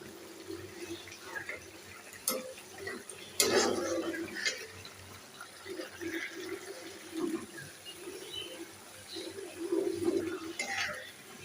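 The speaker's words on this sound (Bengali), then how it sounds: "এই যে তরকারিটা চুলার পরে গজ গজ গজ গজ করে ফুটছে" Curry boils vigorously in a pot on the stove, a continuous bubbling and gurgling simmer with occasional clinks of utensils, moderately quiet and close.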